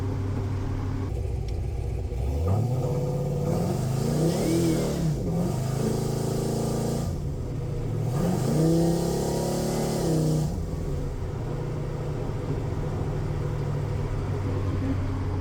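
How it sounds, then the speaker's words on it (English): A powerful hot rod engine rumbling at idle, then revving hard twice with rising, wavering roars and hiss as the tires spin, settling back to a deep idle between bursts. "So that definitely spun the tires, and you can see I was barely even touching it."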